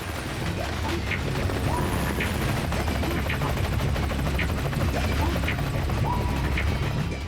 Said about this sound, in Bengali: এই হেলিকপ্টার নিয়ে ট্রেনে কেন ল্যান্ড করছে?